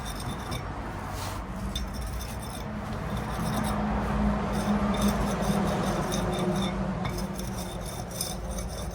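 Mortar is rubbed into the joints of old brickwork during repointing, a continuous close gritty scraping and rasping that rises slightly midway.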